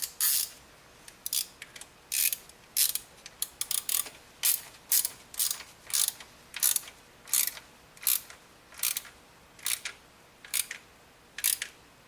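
A bolt being tightened on the knock sensor of a Nissan Xterra, heard as a steady series of close, crisp ratchet clicks in short bursts, about a dozen quick strokes with brief pauses between them and no talking.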